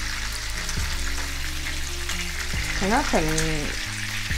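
Prawns frying in hot oil in a pan for a tomato-sauce dry-fried prawn dish, giving a loud, steady sizzle that runs throughout with a few scraping stirs and a brief spoken phrase near the middle.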